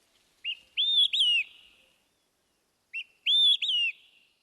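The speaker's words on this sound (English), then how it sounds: "The olive-sided flycatcher." Two phrases of olive-sided flycatcher song, each a short clear whistled note followed by two loud, rising-then-falling whistles, alone with no background, the second phrase about two seconds after the first.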